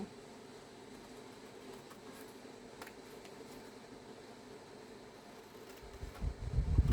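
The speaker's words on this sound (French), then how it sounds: "Je pense que c'est la faute du ventilateur." A steady mechanical hum and airy whir of a running electric fan continues throughout, with a louder low rumble building near the end.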